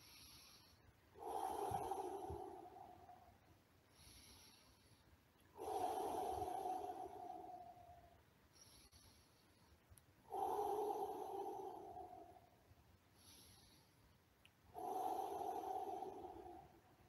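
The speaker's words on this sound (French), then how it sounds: "enlacer un arbre et respirer comme ceci" A person hugging a tree and breathing deeply: four slow, audible breath cycles, each a soft drawn inhale and exhale, evenly spaced with quiet pauses between, close and faint.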